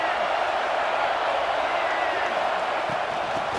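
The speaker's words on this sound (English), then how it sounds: "This crowd ready to make its presence known." A stadium crowd at a football game fills the space with a steady, dense roar, continuous and moderately loud, with no distinct cheers or claps breaking through.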